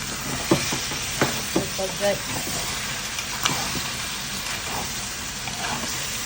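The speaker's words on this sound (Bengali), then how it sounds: "মাংসতে দেখেন বন্ধুরা তেল উঠে গেছে" Chicken frying in oil in a pan gives a steady close sizzle with a few sharp stirring knocks early on.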